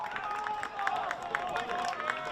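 A crowd in the stands claps steadily at a packed high school boys soccer game at Orchard Lake St. Mary's, a faint, scattered patter of hands heard at a distance under a commentator's voice.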